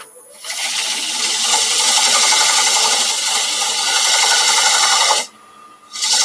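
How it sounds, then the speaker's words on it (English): Scotch-Brite pad rubbing a turned piece spinning on a wood lathe, a loud, continuous abrasive hiss lasting about five seconds before stopping abruptly, followed by a brief pause and a short restart. "I'm just going to give that a quick knock back with the Scotch-Brite pad."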